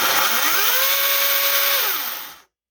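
A Greenworks 80-volt brushless 16-inch chainsaw run without oil: its motor whines upward in pitch, holds a steady buzzing tone, then spins down and cuts off to silence.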